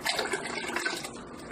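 Grain for a three-gallon red IPA batch is lowered into brew kettle water at about 150 degrees, giving a close, busy sloshing and splashing of liquid with bubbly gurgles.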